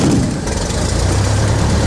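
A Cessna 172 Skyhawk engine has just fired up and runs on at a loud, steady rumble, with a low throb below a broad hiss and no talk.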